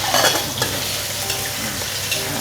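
Prawns hit a hot wok with garlic for a prawn and broccoli stir-fry, giving loud, continuous sizzling with scraping stir sounds close by and no speech.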